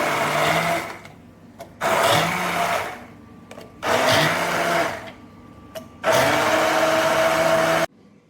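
A blender grinds cashews into a paste for rice pudding (kheer) in four loud, steady bursts of a few seconds each, the motor note dropping into quieter gaps between pulses.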